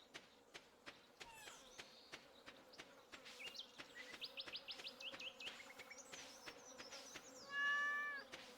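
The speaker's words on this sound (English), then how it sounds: "There's the cat." A cat in the farming game Stardew Valley gives a short meow near the end, set against a quiet background of game chimes, birdlike chirps and rhythmic clicking.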